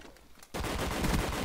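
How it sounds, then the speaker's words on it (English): Gunfire in Call of Duty: Black Ops on Xbox 360: after a half-second lull, a loud, dense stream of rapid automatic shots erupts and keeps going. "I'm using your own gun against you."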